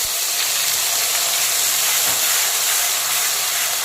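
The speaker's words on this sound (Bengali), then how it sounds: "দিয়ে দিচ্ছি পেঁয়াজের মিহি পেস্ট" Fine onion paste hitting hot oil tempered with bay leaf, black cumin and dried chili for doi pabda, a loud, unbroken close hiss of frying that holds steady throughout.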